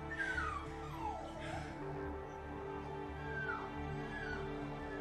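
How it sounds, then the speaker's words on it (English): A puppy in the John Wick movie whines in a few thin, high, falling cries, faint beneath a steady low hum of film soundtrack. "That's the dog he's gonna take home, the one whining."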